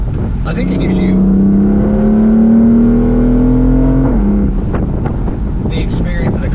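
BMW M4 convertible engine revving and accelerating loudly, a steadily rising tone through the gears heard from inside the open-top car with wind rush, then a shift and continued pull, with people talking around it.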